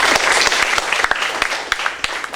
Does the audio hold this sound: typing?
no